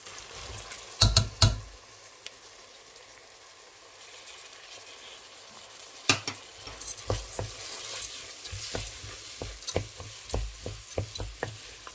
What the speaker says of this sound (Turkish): Şimdi artık mercimeğimi ilave edeceğim arkadaşlar.